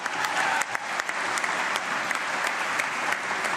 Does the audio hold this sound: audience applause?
yes